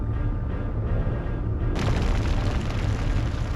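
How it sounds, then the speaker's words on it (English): A giant flamethrower sets a forest ablaze in the video game Skies of Arcadia: a dense, loud roar of fire and booming fills the scene throughout, brightening into a harsher, hissing blast partway through. "we've got a dude with a giant flamethrower just lighting the forest ablaze"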